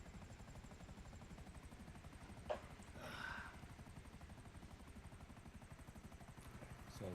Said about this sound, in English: So helicopter's about to go down.